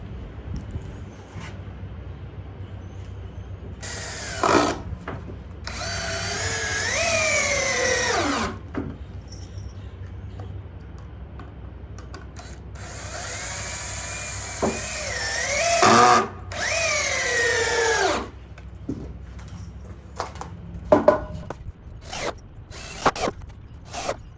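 A power drill drives 3.5 inch deck screws into a 2x4 box frame for a mallard nesting platform, two long rising whirring runs with short trigger bursts and clicks in between, close and loud.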